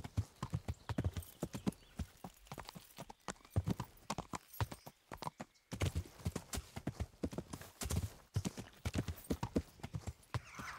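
A horse's hooves clop steadily in Kingdom Come: Deliverance, a close, rhythmic run of sharp footfalls broken by a short pause, with an occasional snort.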